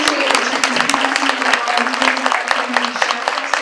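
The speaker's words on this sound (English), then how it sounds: "Can we give our panelists a round of applause?" An audience applauding panelists at a community address, a dense steady burst of many hands clapping close up and loud, with a faint hum under it.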